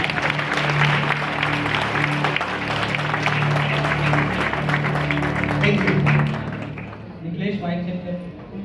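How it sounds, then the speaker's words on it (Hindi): Crowd applause for band members at an Independence Day program, a thick wash of clapping over a sustained musical drone, fading after about six seconds as a voice begins to speak. "तो एक बार जोरदार तालियां हो जाए हमारे सभी बैंड मेंबर्स के लिए"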